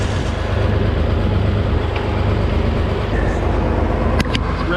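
An engine warms up after starting, giving a continuous, even idling rumble with broad mechanical noise over it and a couple of sharp metallic clicks near the end.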